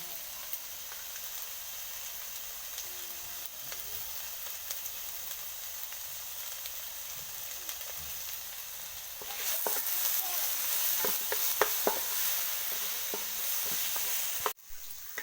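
Dried red chillies, torn into pieces, frying in hot oil with browning onions, a steady soft sizzle that bursts into louder crackling and popping for the last few seconds, then a sharp clatter near the end.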